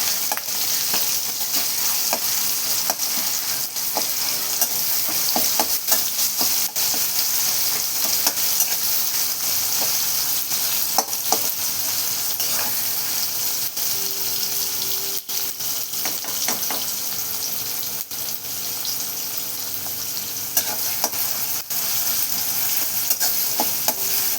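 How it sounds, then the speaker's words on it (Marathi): Tomatoes fry and sizzle in a pan with a steady hiss, while a spoon stirs with occasional scraping clicks throughout. "टमाटा मस्त काही आपण मऊ करून घेऊया."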